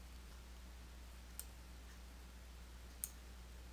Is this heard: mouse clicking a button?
yes